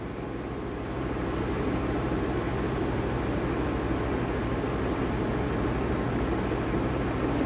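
A sewing machine runs steadily, double-stitching tucks on a blouse, a continuous close mechanical whir with a fast even texture and no pauses.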